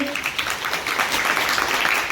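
A crowd of youths at a workshop activity applauding harder, a continuous, even spread of many hands clapping at once, close and fairly loud.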